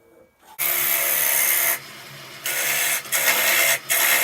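A wooden bowl being turned on a lathe with a gouge, a loud steady hissing scrape of the tool cutting the wood, broken by brief pauses as the cut is lifted and restarted.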